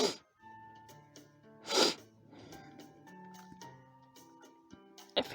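Sneeze from a Fate/Grand Order character, a sharp burst near the start of a quiet musical stretch, followed by another short sneeze-like burst later over soft background music.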